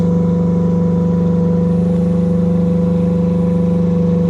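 Rippa R10-5 mini excavator driving slowly, a steady loud mid-pitched engine drone with a constant hum and whir, continuous and close throughout with no talk.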